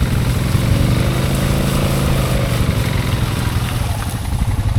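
An old solid-axle Honda ATV engine revs on a trail, loud and close, as a constant heavy drone with a rough, pulsing low rumble and no talking.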